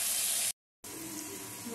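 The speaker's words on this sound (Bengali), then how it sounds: "এখানে আমি পেঁয়াজগুলো ভেজে নেবো এবার ভালো করে" Chopped onions frying in hot oil for a Bengali mutton curry give a loud, steady, broadband sizzling hiss, cut by a brief silent gap before the sizzle resumes.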